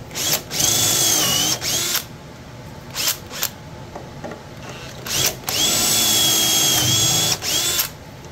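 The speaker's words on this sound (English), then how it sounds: "So I gotta drill the old dowel out." A power drill whines in several bursts, spinning up and cutting into wood as it drills out an old dowel from furniture, with short pauses between runs and a quieter hum underneath.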